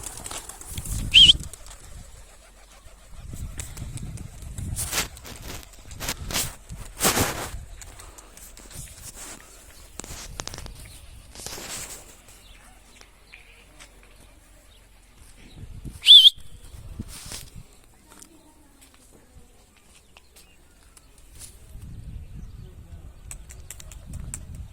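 Flock of pigeons released to fly from a simple rooftop loft, giving bursts of wing flapping and rushing flutter with a couple of sharp whistles, mixed with murmured talk and background noise.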